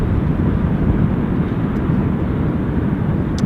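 An easyJet Europe airliner inbound from Faro roars steadily at Southend Airport, a loud, continuous broadband engine rumble with no breaks and no talk.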